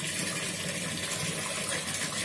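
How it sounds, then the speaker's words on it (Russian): Water gushing from a kitchen tap opened to maximum, a steady, dense rushing stream that stays constant throughout with no voices. "На максимум открыт кран наш."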